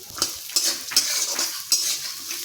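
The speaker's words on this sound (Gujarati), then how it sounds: "બધું જ આપણે અહીંયા સરસ સાતરી લઈશું" Onion, carrots and green peas sautéing in a pan for upma, with a close sizzle and repeated sharp scrapes of a metal spoon stirring against the pan.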